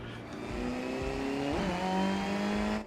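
Exterior engine note of a race car in the Assetto Corsa EVO racing game at Kyalami, a loud sustained drone that rises in pitch, drops briefly at a gear change, then climbs again, heard alone.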